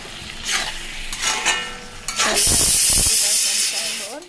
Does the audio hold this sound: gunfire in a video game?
no